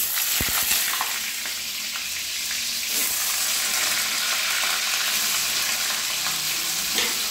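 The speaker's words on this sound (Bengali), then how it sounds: "কড়াইতে আমি মোটামুটি রিফাইন তেল 3 চামচ দিয়েছি, দিয়ে এবারে পনিরটাকে ভেজে নিচ্ছি" Paneer frying in about three spoons of refined oil in a wok, a steady close sizzle and crackle running the whole time with a few brief clinks near the start, no voices.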